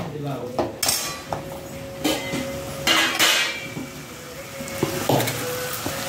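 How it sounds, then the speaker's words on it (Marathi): Potatoes fry in a pan with a close, crackling sizzle, broken by clinks and scrapes of a utensil against the pan, and a voice speaks at times over it. "बघू शकता आपले हे बटाटे फ्राय होत आहेत।"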